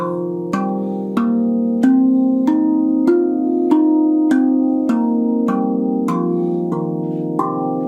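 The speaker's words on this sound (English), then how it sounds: "you can ignore the third note and the ninth note and turn it into a C pentatonic minor." A steel tongue drum in C (RAV Vast) struck one note at a time, about a dozen clear, ringing metallic tones in an even rhythm stepping through a C pentatonic minor scale, close and alone with overlapping sustain.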